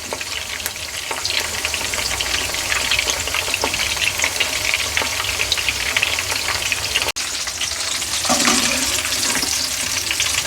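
Keema frying in a pan gives a steady, loud, close sizzle, with stirring scrapes mixed in and a brief sharp click near the end.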